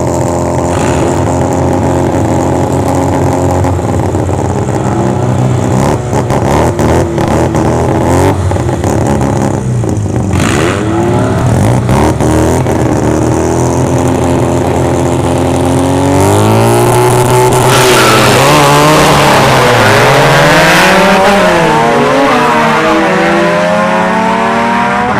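Mazda RX-7 and Acura Integra launching side by side at a drag strip, engines roaring loud and close with rising revs, gear-change dips and tire spin, the howl swelling to a harsh peak late on.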